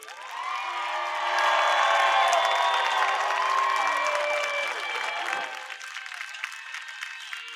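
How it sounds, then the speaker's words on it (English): Sustained applause from a large audience, steady clapping with some cheering mixed in, fading slightly toward the end. "Let's applaud our seniors in row 3."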